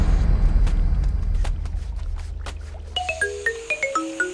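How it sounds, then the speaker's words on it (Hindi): A phone ringtone for an incoming call in a Hindi-dubbed South Indian action movie chimes as a rising, repeating melodic pattern of bright tones, entering midway after a low rumbling score and playing loud and clear. "मुझे क्यों फोन कर रही है?"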